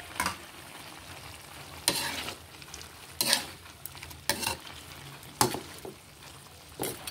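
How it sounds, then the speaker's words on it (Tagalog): Rabbit kaldereta being stirred in a pan, with a steady frying sizzle broken by several sharp scraping strokes of a utensil against the pan at irregular intervals, close and moderately loud, with no talk. "haluin lang po natin"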